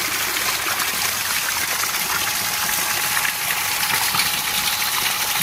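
A sand filter pump runs on its rinse setting, pushing a steady, loud rush of flowing water over a constant motor hum with no break and no voices.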